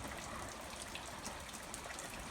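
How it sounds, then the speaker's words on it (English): Light rain falling steadily with no wind, a soft continuous hiss of drops with faint scattered patters, close and even throughout with no talking. "it's a light rain, no wind"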